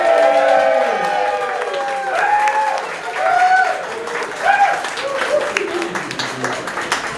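Audience at the Pride Of The Hide 2022 contest cheers and applauds a contestant taking the stage, with loud crowd noise and whoops mixed with clapping while an announcer's voice speaks over it.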